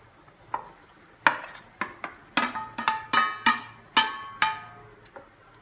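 Metal pots and utensils clink and knock in a home kitchen while chopped, boiled and skinned tomatoes go into a vegetable cottage pie gravy: about a dozen sharp, ringing hits in an irregular run, close and fairly loud.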